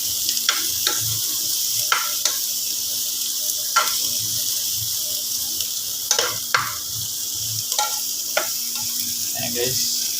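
Garlic sizzles in hot oil in a frying pan, a steady bright hiss with scattered crackles and occasional utensil taps, close and loud, in a home kitchen.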